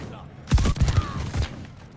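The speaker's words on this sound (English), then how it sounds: "I can hear someone shooting" Gunshots ring out in Call of Duty: Vanguard, a short cluster of several shots mid-range with faint background noise and a few quick thumping reports.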